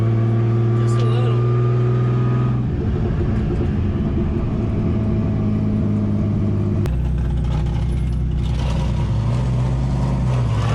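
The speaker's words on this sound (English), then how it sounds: "You hear the car breaking up a little bit?" A turbocharged BMW E36 drifts while its engine breaks up, a loud, close, constant drone whose pitch shifts abruptly twice, with a person talking over it.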